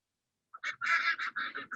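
Ducks by a pond quack and honk in a quick burst of several calls, somewhat distant, within an outdoor ambience soundscape, with no talking over them.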